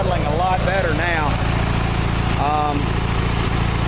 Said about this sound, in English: It actually is idling a lot better now.